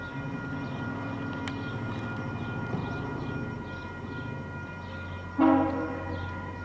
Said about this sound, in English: Hey, horn blast.